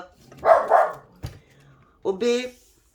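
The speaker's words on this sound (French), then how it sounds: "je vais aller voir ma petite chienne pour la mettre dehors" A small female dog barks twice in quick succession, then gives a higher, drawn-out yelp after a pause, close and fairly loud indoors.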